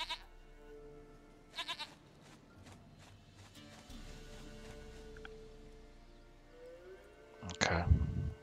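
A goat in The Witcher 3 video game bleats a few times, short nasal cries over quiet ambient game sound, with a character speaking alongside.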